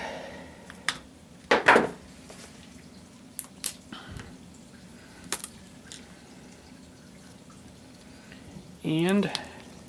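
Melted beeswax being poured out of an extraction container, with a few separate splashy drips and pours spread across the clip and a brief voice near the end.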